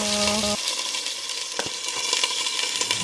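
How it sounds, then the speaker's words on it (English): Steady sizzle of white onions frying in a pan fills the clip, a brief harmonic tone at the start and a sharp clink partway through, no voices. "people like to hear the background noises of like the sizzle and the clink of the pan"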